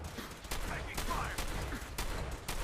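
Video game gunfire in Fallout 4 crackles in repeated sharp bursts across the clip, loud and close, with no talk over it.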